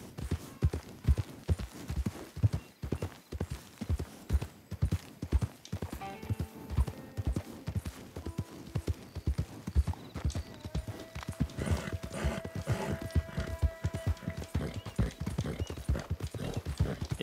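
Horse hooves clip-clop in a steady, even rhythm in the game Red Dead Online, with a faint whinny and a soft background hum partway through.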